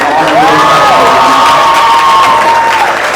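Wedding guests applaud and cheer for the celebrant in a loud, dense burst of clapping and crowd noise. High whoops and shouts rise over it and it carries on steadily throughout.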